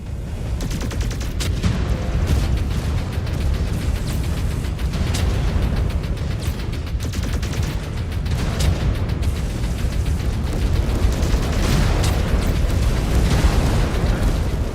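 A continuous roar of explosions and booming blasts in the mech combat game MechWarrior 5: Clans, loud and sustained with repeated sharper bursts as a mech is destroyed.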